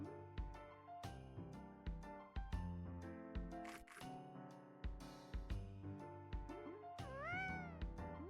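A cat in a farming video game meows repeatedly while being petted, a string of short separate meows and purrs, clear and close with no talk.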